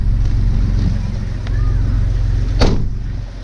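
Jeep XJ fitted with a new engine drives on a test run, a steady low engine rumble filling the cabin with a brief sharp knock near the end, people talking quietly over it.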